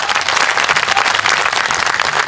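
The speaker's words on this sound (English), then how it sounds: "I think we can give her one big, more blue round of applause." A crowd at a Freedom Day rally breaks into dense, steady applause, many hands clapping loudly and evenly throughout with no break.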